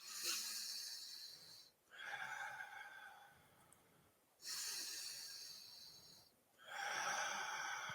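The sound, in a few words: deep breathing during respiratory training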